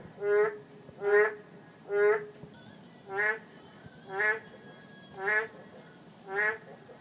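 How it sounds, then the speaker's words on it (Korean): Nocturnal maengkkongi toads call at night in a pond garden, seven evenly spaced, nasal croaks about a second apart, clear over a quiet background. "야행성 양서류과인 맹꽁인데요."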